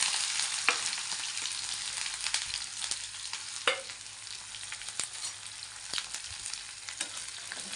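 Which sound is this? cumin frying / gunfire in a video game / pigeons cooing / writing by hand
cumin frying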